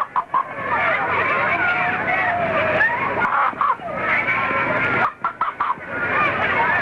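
A squeaky, scraping noisemaker made from a yogurt cup, waxed string and a knot rasps out long wavering cries that mimic a rooster's crow, in several loud bursts with short pauses between.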